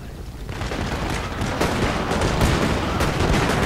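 Massed musket volleys from soldiers in the Sengoku Jidai era of Shogun 2, a dense crackle of overlapping shots over battle din, steady and loud for the whole stretch.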